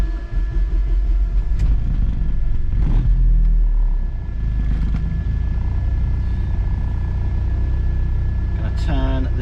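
A turbocharged car engine on a dyno with a Chinese turbo running about 20 psi boost gives a loud, deep, steady rumble that eases slightly midway, with a brief whistling rise near the end.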